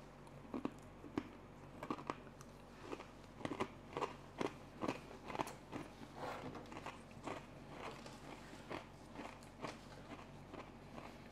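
Crunchy bites into a dried anchovy and chili snack, a series of sharp close crackles and chewing crunches repeating through the clip with no talk.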